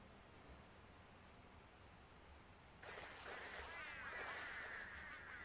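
Penguins in the video game Don't Starve, a honking, goose-like squawking that starts abruptly partway through and continues as a raspy, fairly loud cluster of calls over a quiet game background.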